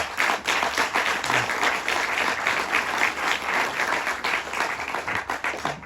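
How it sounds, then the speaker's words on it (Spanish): A church congregation at a Sunday service breaks into sustained applause, many hands clapping in a dense, lively patter that holds steady and close for several seconds. "Dale un aplauso al Señor si se lo va a dar"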